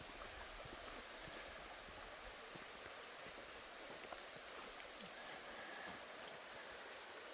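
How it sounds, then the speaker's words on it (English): A creek at Jack Creek Recreation Area in Ouachita National Forest flows in a steady, faint, even wash of rushing water, constant throughout with no voices. "But here's the creek I was hearing."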